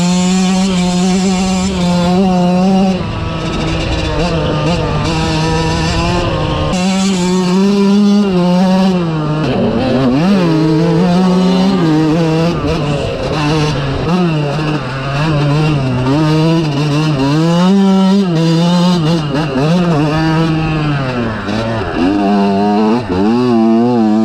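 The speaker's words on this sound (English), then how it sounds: "I'm gonna rip the trail on it to show y'all guys how fast it really is and how good of a bike it really is" A motorbike ridden hard along a dirt trail, its engine revving up and down through repeated accelerations and gear changes, loud and close for the whole run.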